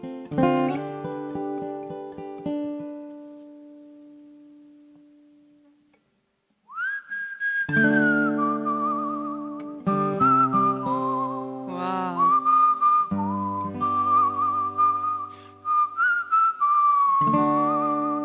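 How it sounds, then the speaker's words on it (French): A man whistles a melodic song on a television singing competition stage, clear sustained and trilling notes over piano and band accompaniment, with a brief pause before the tune continues strongly; a short exclamation is heard. "Il siffle super"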